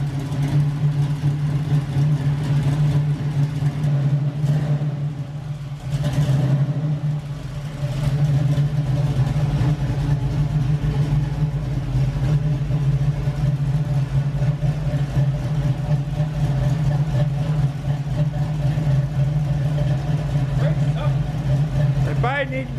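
An LS-swapped Camaro with a lumpy cam idles in a steady, deep, loping rumble that runs close and loud throughout, with voices talking over it.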